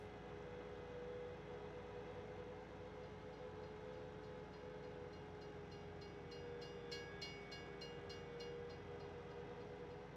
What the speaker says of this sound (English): Comes that train.